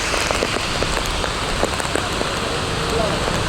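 Torrential rain whipped by strong wind pours down on a Mumbai road, a loud, unbroken wash of drumming water and gusty rushing noise close around the listener.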